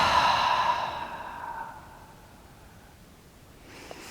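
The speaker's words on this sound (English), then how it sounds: "Exhale out the mouth." A long audible exhale out through the mouth during a yoga breathing practice, loud at first and then trailing off into quiet, close to the microphone with no talking.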